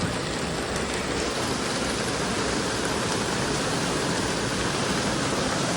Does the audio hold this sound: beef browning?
no